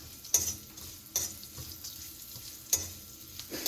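A vitamin-rich sauce sizzles steadily in a pot while being stirred, with a few sharp clinks of a utensil against the pot over the soft, constant frying hiss.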